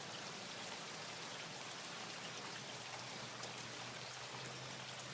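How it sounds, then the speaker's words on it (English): Steady rain falling outdoors, an even wash of fine close drops on surfaces that holds constant throughout with no talk over it. "Look, it's rain. See the rain?"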